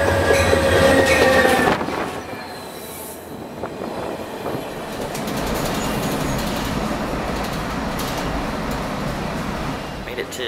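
The Coast Starlight passenger train rumbles and clatters nearby at San Jose station with faint squealing wheels, a steady rolling roar throughout and a voice speaking under the noise.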